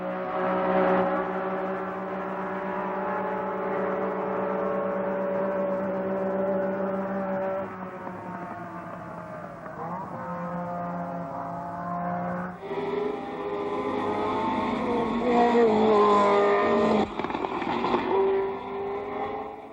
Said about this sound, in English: Full bore past the crowds on lap 19. The two cars still race nose to tail.